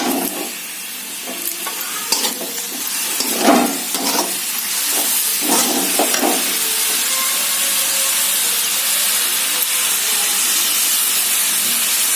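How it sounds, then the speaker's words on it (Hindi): Grated onions fry in a pan for an Odia village-style chicken kasa, giving a steady broadband sizzle with a few louder stirring scrapes early on, close and continuous with no talking. "हल्का ब्राउन होने तक भूनेंगे।"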